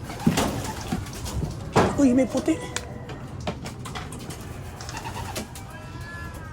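Pigeons coo in a loft, a few soft, low calls and wing flutters close by while someone talks over them.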